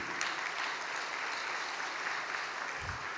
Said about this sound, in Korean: 신북미 천심원도 박수 치겠습니다